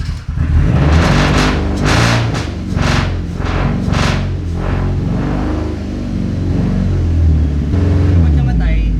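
A Mazda FD sports car's engine runs and revs right after firing up, loud and close, with several rising blips of throttle over a rough rumbling idle while excited people shout and talk over it.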